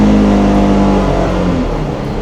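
A Polaris Xpedition side-by-side engine revs up to around 6,000 RPM, a loud, close, sustained mechanical roar that holds high and then eases slightly.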